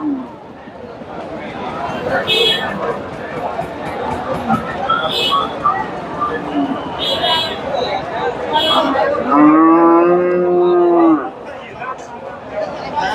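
A loud, drawn-out cow moo rises over the steady chatter and bustle of a crowded cattle market selling dairy cows and calves at Dhaper Hat in Bogura, Bangladesh, with other animal calls in the background.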